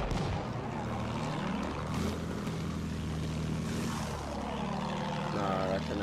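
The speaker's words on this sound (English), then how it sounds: "No, that's an attack plane." Propeller attack plane roaring overhead in the World War I shooter game Battlefield 1, a steady loud engine drone with rising and falling pitch as it passes, mixed with battle noise and brief voices.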